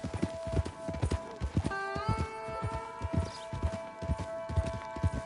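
Horse hooves clip-clopping at a steady trot in Red Dead Redemption 2, a close, even rhythm of repeated hoof strikes while a tonal musical score plays underneath.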